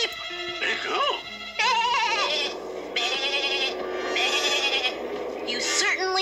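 Several sheep bleat in overlapping, quavering calls, loud and near, forming a steady chorus throughout.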